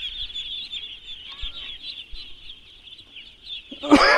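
A flock of ducks on a large duck farm keeps up a continuous high chattering, joined near the end by a sudden loud burst of calls or splashing up close.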